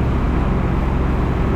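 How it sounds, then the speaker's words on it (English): A heavy tractor engine rumbles steadily up close during corn planting, a loud, constant low drone that never lets up. "finally got this dump tractor moving"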